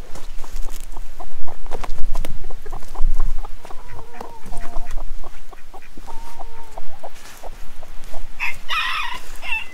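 Hens clucking and murmuring close by, with a string of short repeated calls and a sharper squawk near the end, over a noisy outdoor background.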